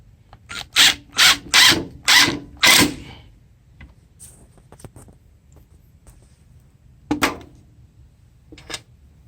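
A power drill drives screws into a wooden rabbit nest box, five loud, closely spaced bursts of whirring in quick succession, then quiet, with one more short burst near the end and a faint click or two.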